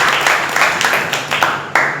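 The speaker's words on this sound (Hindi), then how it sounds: "तालियों की गड़गड़ाहट" Applause at a Congress party meeting in Uttar Pradesh: close, loud, dense clapping in a short burst of about two seconds.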